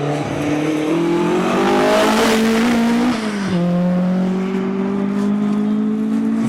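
Rally car 50 at the East Riding Stages Rally blasts past on a stage, its engine loud and close, the pitch climbing through gears, then dropping as it passes and pulls away.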